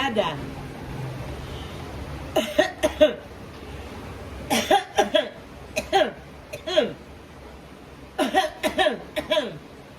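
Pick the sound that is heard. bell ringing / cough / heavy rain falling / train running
cough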